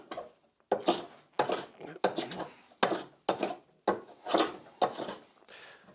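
A hand scraper pulls across wood to strip a cured finish, about ten rasping strokes in a steady rhythm, close and fairly loud, each stroke separated by a brief pause.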